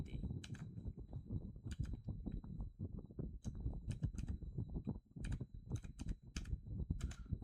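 Quick bursts of typing on a computer keyboard, close and steady with clustered key clicks and short pauses between runs, no talking over it.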